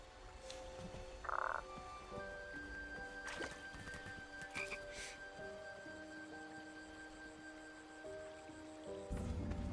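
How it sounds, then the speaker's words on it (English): A frog croaks in the King's Quest adventure game. Distinct croaks sit over soft, sustained musical tones, with no talking. "what am I supposed to do with this damn frog?"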